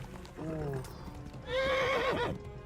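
A horse in the game Kingdom Come: Deliverance whinnies twice while fleeing under fire, a short neigh and then a longer, louder one over a low background.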